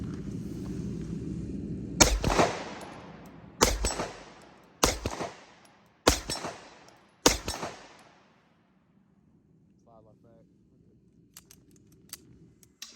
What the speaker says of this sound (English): while I was shooting it, you can feel the gun rack and load the next round into the chamber